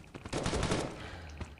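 Gunfire from the Modern Ops mobile shooter game on iPhone, a short burst of rapid close shots followed by a lower rumble and one more single shot.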